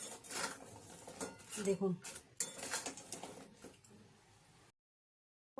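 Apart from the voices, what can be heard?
stirring fried gaja sweets in sugar syrup in a pan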